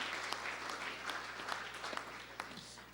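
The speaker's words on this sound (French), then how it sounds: "Vous pouvez applaudir, s'il vous plaît" Audience applause at a French business speech event, steady clapping from a crowd throughout, fairly soft and even with a few sharper claps standing out.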